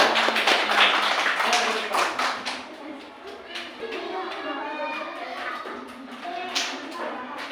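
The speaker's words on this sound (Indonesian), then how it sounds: "Terima kasih, tepuk tangannya." Children clapping in a classroom, an uneven burst of claps and taps that thins into scattered patters, with children's voices chattering underneath.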